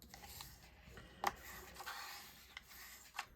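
Paper is rubbed firmly along a fold of a handmade paper mailing package, making faint, close, dry rubbing strokes with a few brief louder swipes.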